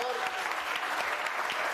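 Steady applause from a live TV studio audience fills the whole moment, dense clapping at an even level with no pauses.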